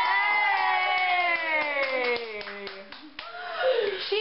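Indoor group of people clapping and cheering at a Saint Patrick's Day party after a beer-holding challenge, with sharp scattered claps under whooping, sung-out voices close by.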